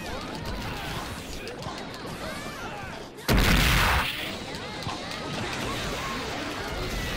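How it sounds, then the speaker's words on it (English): A loud burst of explosions from Deidara in the Naruto War of Shinobi video game erupts midway, a single broad blast standing out over a busy, noisy stretch of game effects and background sound. "Oh man, I threw both of my explosions at him."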